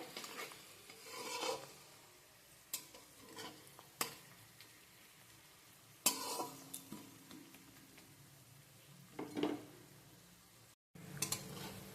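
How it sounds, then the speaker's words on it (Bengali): Onion frying in a pan while preparing a Bengali katla fish kalia, with a soft ongoing sizzle broken by intermittent scraping and stirring strokes of a spatula, fairly quiet and close, with no one talking. "পেঁয়াজটা এক দু মিনিট ভালোভাবে ভাজা হয়ে গেছে"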